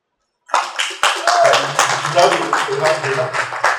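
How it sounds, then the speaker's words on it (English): A room full of people applauds at a hospital group gathering, claps rising abruptly after a short silence and continuing as dense, fairly close clapping mixed with murmured voices. "A round of applause."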